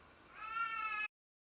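A single drawn-out meow from a cat indoors, rising and holding for about a second before cutting off abruptly, fairly faint and close, with no talking.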